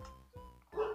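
A dog in a video game gives a couple of short barks, quiet and evenly spaced, followed by a louder burst at the end.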